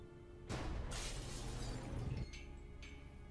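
In the adventure game Gibbous, glass above a lab door shatters: a sudden loud crash lasting under two seconds, followed by a few fainter tinkling fragments falling, with no voices.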